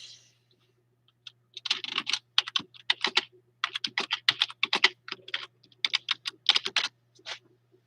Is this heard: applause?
no